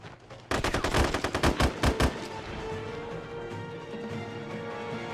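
A rapid, loud burst of AK rifle fire in SOCOM U.S. Navy SEALs 3 cracks out for about a second and a half as a string of close shots, then fades into quiet background hiss.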